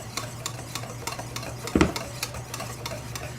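A whisk beats a runny pie filling in a bowl for a Kentucky Derby pie, a quick regular ticking clatter of metal on the bowl with one louder knock midway, no voices.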